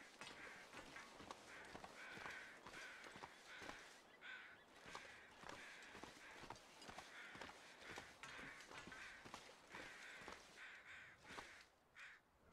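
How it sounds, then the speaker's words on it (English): Crows near a corpse in the survival video game The Long Dark caw repeatedly in harsh, uneven bursts, fairly close, over a steady windy wilderness background with no talking. "I'm glad we see crows, though."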